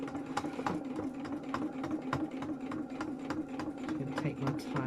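Sewing machine stitching felt, running at a steady clatter with regular sharp needle ticks over a humming motor, close and continuous.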